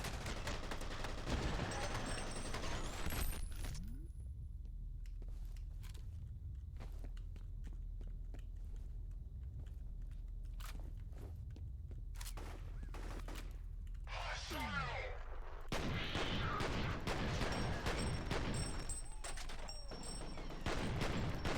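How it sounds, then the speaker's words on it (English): Shotgun blasts from the first-person shooter game F.E.A.R., heavy booming gunfire bursts with sharp cracks and rumbling tails that come in clusters over a steady background bed, loud and close. "This is probably the most satisfying and best shotgun in"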